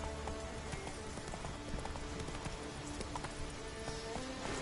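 Horse hooves gallop in the Witcher 3: Wild Hunt video game, a steady quick clatter of hoofbeats over a dense, rain-like background wash, moderately faint and continuous.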